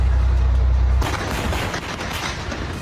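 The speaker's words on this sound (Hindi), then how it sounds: "इजराइल का आसमान धमाकों से दहल उठा" Over Tel Aviv, explosions and air defense missile fire give a loud, rough barrage of cracks and booms over a continuous roar. It follows a deep steady rumble and fills the rest of the clip.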